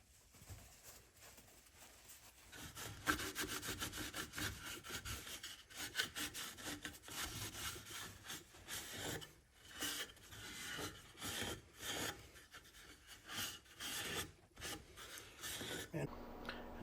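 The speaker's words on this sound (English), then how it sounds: "I think oak looks gorgeous with a nice oil rub anyway, so I'll let you watch this process" Oil being rubbed into oak wood by hand, heard as faint, rhythmic back-and-forth scrubbing strokes with irregular pauses, close up and with no one talking.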